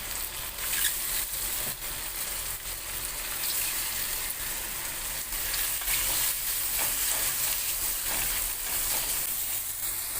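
Mushrooms fry in butter in a pan, making a loud, continuous sizzle with spattering crackles throughout and occasional stirring, with no speech over it.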